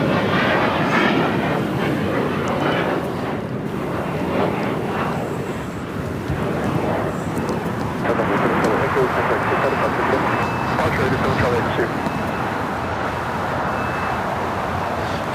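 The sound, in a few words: Boeing 787-8 Dreamliner jet airliner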